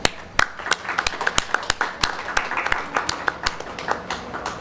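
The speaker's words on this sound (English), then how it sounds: "I'd like to applaud you now." Applause from a festival panel audience in a Karachi hall, a steady patter of many hands clapping with sharp individual claps standing out, fairly close and continuing throughout without talk.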